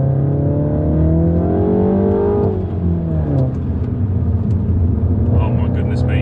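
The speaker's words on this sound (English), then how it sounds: "Auto rev match on the downshift, so that produces the pops and bangs on overrun" A Mulgari ICON2 engine revs up loudly with a rising whine, then drops on a rev-matched downshift, with faint pops and crackles on overrun afterward, close and prominent.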